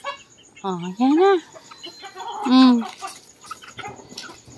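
Roosters crow loudly and close by, with a couple of long crows rising over scattered clucking and fowl noise in a yard, while a person speaks briefly between the calls.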